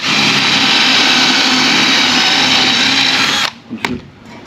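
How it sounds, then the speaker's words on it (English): A power drill whines loudly and continuously as it bores off the head of a pop rivet on a boat, close up, then stops abruptly, followed by a few short clicks and knocks. "and you drill off the head."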